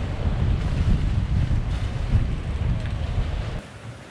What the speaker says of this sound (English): Waves are rolling in.